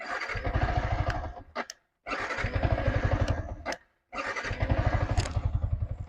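A 2019 Yamaha R sport motorcycle engine fires up and idles in three separate runs, each cut off by a short silence, with a steady close throbbing pulse and brief revs.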